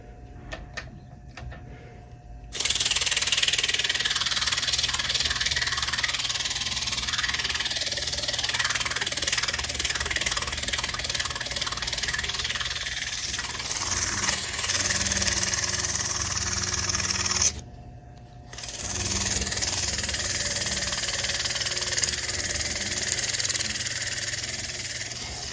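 Motor of a vintage W.T. Grant box fan running with a steady hum and a faint rubbing texture, cutting out briefly near the end before starting again.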